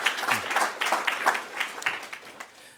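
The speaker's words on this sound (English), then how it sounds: "Please give him a round of applause." A smaller group at a news conference claps in uneven bursts, individual hand claps audible in clusters that swell and then taper off toward the end, fairly close and without talk.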